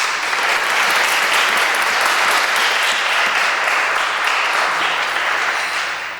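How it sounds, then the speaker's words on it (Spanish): An audience applauds for the ambassador at a formal ceremony, a dense, steady wash of clapping that carries on for about six seconds and tapers slightly toward the end. "Un aplauso para ella,"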